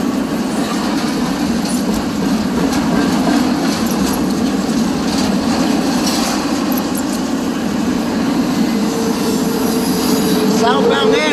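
Two CSX freight trains pass each other, one southbound and one northbound, making a loud, steady rumble of wheels and cars throughout, with faint squeals toward the end.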